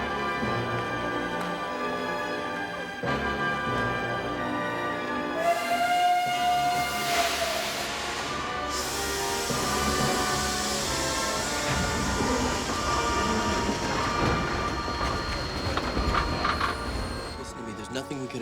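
Steam train with a long whistle blast over hissing steam and rolling rail noise, set in a period drama, loud and continuous with music and voices mixed in.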